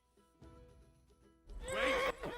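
A horse in the video game Kingdom Come: Deliverance gives a loud, close whinny near the end, after a short stretch of quiet background sound.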